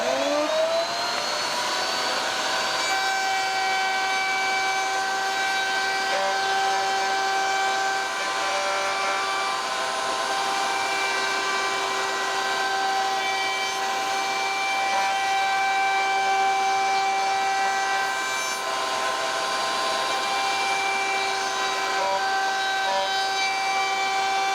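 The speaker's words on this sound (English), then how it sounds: "I have an 1/8 inch roundover bit on this little router table, and I route all the way around both sides." A small router table fitted with a 1/8 inch roundover bit spins up and runs steadily as wood edges are routed, a loud continuous high whine with slight changes in load, no talk.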